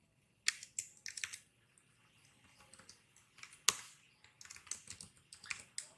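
C++ code being typed on a computer keyboard, with sparse clicky keystrokes coming in short bursts and pauses, close and fairly quiet, no talking.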